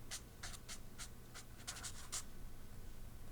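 A blue Mild liner pen scratches across paper in short, quick strokes, close and fairly faint, in a regular rhythm that fades out toward the end, with no talk.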